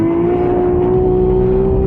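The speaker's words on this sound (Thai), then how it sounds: "ออกตัวไปแล้วครับ ออกไปได้นิ่งแล้วก็ตรงดีเหลือเกิน" A drag racing car at a Thai street-car meet holds a loud, steady engine note with a strong whine as it pulls away from the start line. The car is close, the sound stays unbroken, and no one speaks.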